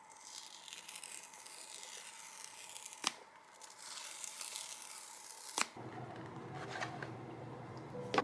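Pull tabs tear open on a sky blue iPhone Air box, long papery rips broken by a couple of sharp snaps as the tabs come free, close and alone with no talk.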